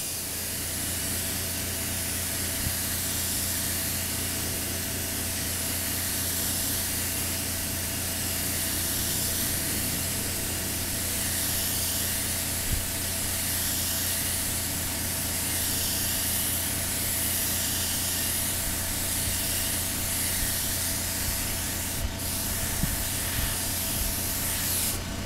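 A spray gun lays green paint onto Kawasaki motorcycle tank trim and a gas cap, a steady close hiss that runs unbroken for the whole stretch with no talking.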